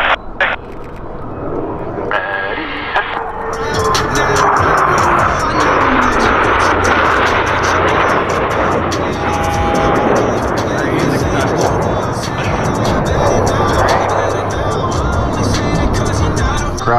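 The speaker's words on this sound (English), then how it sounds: "all four pilots will simultaneously roll their aircraft 360 degrees as they perform the Diamond aileron roll" Four U.S. Navy Blue Angels jets fly the Diamond aileron roll at the California Capital Air Show, a loud continuous jet roar that swells and stays broad and steady across the whole pass.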